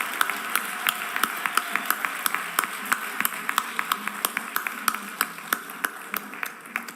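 Audience applause at an international award ceremony in Mexico City honoring food projects, a steady patter of many hands clapping with sharp individual claps standing out, moderately distant and sustained throughout.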